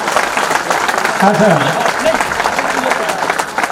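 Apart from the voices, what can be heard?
audience clapping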